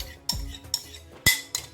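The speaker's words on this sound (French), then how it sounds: "je mélange yaourt et bicarbonate" A spoon clinks and scrapes against a bowl while yogurt and baking soda are stirred together, giving about four sharp, close knocks in an uneven rhythm.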